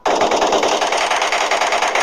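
Rapid automatic gunfire from a shooting video game, a loud continuous burst of closely spaced shots running nearly the whole time with no pauses.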